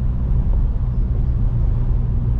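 Fiat Strada fitted with 205 tyres pulling in fourth gear, a steady low engine rumble and road drone heard from inside the cabin, continuous and fairly loud with no voices.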